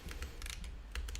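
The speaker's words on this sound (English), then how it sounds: "That's why I'm like really typing bad right now." Rapid, uneven typing on a computer keyboard at a desk during an AR design class, clusters of close key clicks with brief gaps, moderately loud with no talk.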